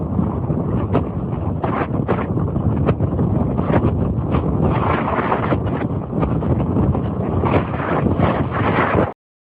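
Strong wind blasts steadily on an open hiking trail, roaring and buffeting the microphone close up with constant gusty rumble and no voices, then cutting off abruptly near the end.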